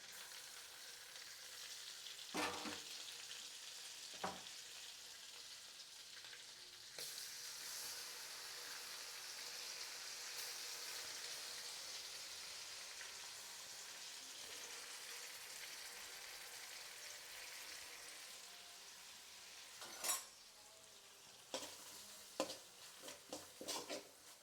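Fennel seeds, chillies and crushed ginger and garlic frying in hot oil for a country chicken dish, a steady close sizzle throughout with a few sharp clinks of a spoon against the pan near the start and end.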